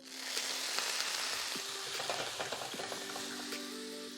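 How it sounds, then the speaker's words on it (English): Pasta frying in a hot pan with a steady, crackling sizzle throughout, joined by a few clinks and stirring noises and no voices. "Sizzle, sizzle."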